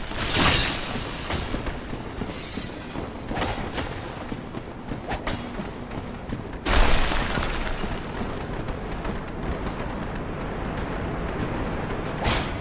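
Exploding enemies in the Dark Souls video game: a sharp, close blast at the start and another heavy burst partway through, both over a constant loud rumbling din.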